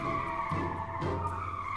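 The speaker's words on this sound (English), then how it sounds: "Tire screeching? Yeah, car. Car drifting." Sustained tire screech of a drifting car, a continuous squealing tone with brief surges, heard alone and at close, steady loudness.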